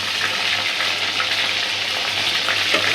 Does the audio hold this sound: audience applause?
no